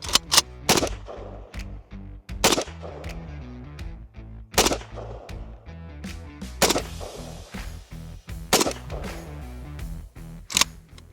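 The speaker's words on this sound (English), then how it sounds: "here we're doing the same test, 5 shots of AK." Several loud, sharp AK rifle shots fired into a ballistic glass panel at close range, spaced irregularly with brief ringing decays and clattering impacts between them.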